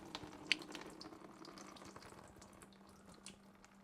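A very thick glaze pours over bisque-fired pottery, a soft, faint liquid trickle and splash with a few small drips and knocks, fading gradually with no talking.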